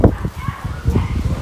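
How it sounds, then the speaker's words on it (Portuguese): Dogs fighting outdoors in the evening, with a tangle of short overlapping barks, yips and whimpers in quick irregular bursts at moderate distance and fairly loud. "Cachorro ali brigando."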